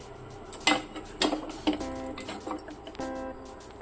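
Foxtail millet and moong dal sprouts pongal with rice being stirred in a pot at home, with repeated soft scrapes and clinks of a spoon against the metal, moderately close, in an uneven rhythm with no talking.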